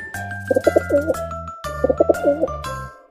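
A pigeon coos in two repeated phrases of short throaty notes, close and clear, over a steady background of tonal music.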